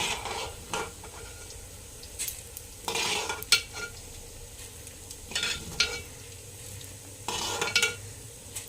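Spices such as coriander seeds being dry-roasted and stirred in a pan, with soft frying sizzle and repeated scraping, clattering strokes of a spoon against the metal, close and fairly loud.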